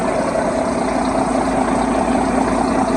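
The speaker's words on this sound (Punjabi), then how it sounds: "ਇਹਦਾ ਇੰਜਣ ਹੈ ਟਰੱਕ ਦਾ," A truck engine idles in a truck yard in Canada, a steady low rumble heard close up and unchanging for the few seconds, with no speech.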